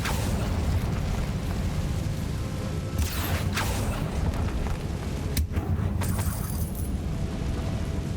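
Incendio fire spell cast in Hogwarts Legacy, a loud rushing whoosh of flame over constant rumbling game noise, followed a couple of seconds later by a sharp burst and a brief bright crackle.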